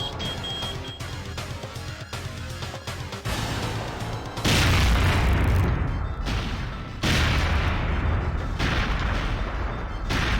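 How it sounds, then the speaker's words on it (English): A big explosion in an Area 51 raid video game, a sudden broad roaring blast followed by dense rumbling and crashing debris noise that swells again a few seconds later. "Whoa, that was a big explosion."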